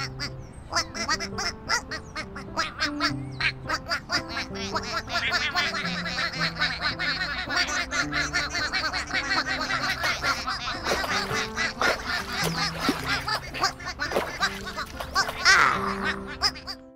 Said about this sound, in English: Big Blue made sure that all 12 ducklings found the pond.